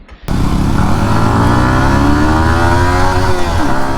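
A Yamaha XSR 155 motorcycle engine roars loud and close after a brief quiet start, revving steadily and climbing in pitch as it pulls through the gears, with a dip around a shift near the end; no voices.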